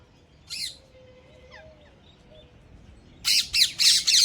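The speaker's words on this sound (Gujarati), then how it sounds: "તો ગાઈસ વહેલા વહેલા ઘર ઉપર પોપટ આવી ગયા છે પાંચ પોપટ આવીને બેઠા છે" Five parrots perched on a house roof give a brief squawk, then a rapid run of loud, harsh squawks close by, with a faint whistle in between.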